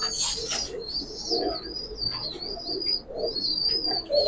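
A female silver pankhi military pigeon coos in soft, repeated low bursts, while a thin, high, sustained chirping from other birds runs above it.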